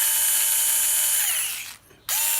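A MXTOVEL 4V cordless screwdriver whirs steadily, then its pitch sags as the motor winds down, falling briefly silent before it starts up again with a sharp rising whine.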